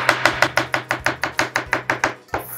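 Onions are chopped on a board with a knife in a fast, even run of about fourteen crisp, loud, close strikes. No one speaks.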